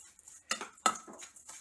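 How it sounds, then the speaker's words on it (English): A spoon mixes stuffed bell pepper filling of salt, cilantro, corn, chopped red onion and Mexican Chihuahua cheese in a bowl, giving a few soft scraping clinks against the bowl, close and faint, with no speech. "Now what we're going to do is that we're going to mix everything up."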